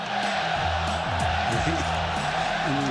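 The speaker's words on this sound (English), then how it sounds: "And listen to the crowd." Basketball arena crowd at a Lakers game roars and cheers for Carmelo, a steady loud din with whoops, while a voice talks over it.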